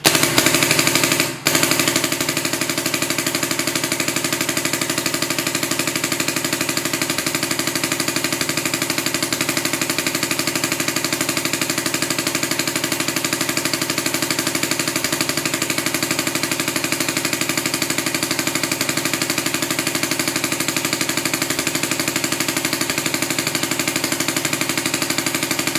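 A paintball marker fires .50 caliber paintballs fed from a modified Pinokio hopper in a loud, steady, rapid stream that runs unbroken for about 25 seconds after a brief start, close and with no talk.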